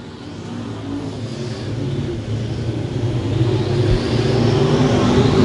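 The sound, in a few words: race cars on dirt speedway track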